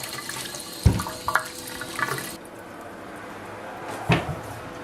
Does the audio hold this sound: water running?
yes